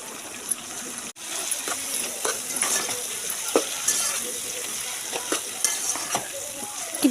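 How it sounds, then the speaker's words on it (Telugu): Tomato pieces frying with softened onions in a pan for an egg biryani, a close steady sizzle punctuated by repeated sharp clicks and scrapes of a utensil stirring against the pan, no speech. "ఇప్పుడైతే టమాటా ముక్కలు కూడా వేసుకుని ఫ్రై చేసుకుందాం వీటిని కూడా"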